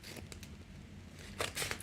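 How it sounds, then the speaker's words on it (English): Scissors snip through a paper ballot envelope at close range, a quiet rustle giving way to a burst of crisp cutting and crinkling near the end. "These are the scissors. So let me guys cut it open."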